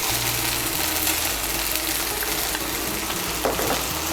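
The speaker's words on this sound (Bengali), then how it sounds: "টমেটো বাটাটা খুব মিশিয়ে নেব। মিশিয়ে নিয়ে একটু ভেজে নেব।" Tomato paste frying in hot oil with ginger, garlic and chilli for a Bengali fish curry, a steady close sizzle with a low hum beneath and a brief stirring clatter near the end.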